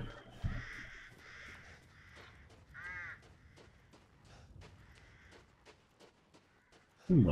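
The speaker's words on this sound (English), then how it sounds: "Bird! Bird!" A crow cawing in the video game Resident Evil Village, several harsh caws at intervals over quiet ambience, with a brief burst of other sound at the end.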